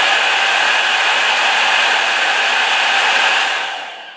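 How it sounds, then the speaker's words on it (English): An Amazon Dyson-dupe hair dryer running on low gives a steady, near airy roar with a broad rumbling hiss, unchanged for several seconds before tapering off. "the Amazon device is a little bit more of a low rumble"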